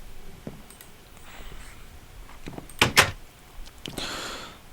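Wooden door in the Minecraft video game, heard as a few short, sharp knocking clacks of a door shutting, fairly close and clear, with quieter game sounds in between.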